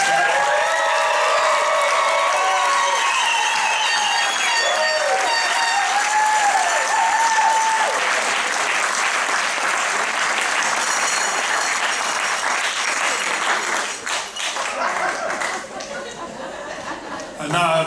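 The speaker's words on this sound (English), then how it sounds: "I think we can give them another round of applause." A graduation ceremony audience at Palmer College of Chiropractic West Campus gives sustained, full applause with some cheering, chatter and chuckles mixed in, easing off toward the end.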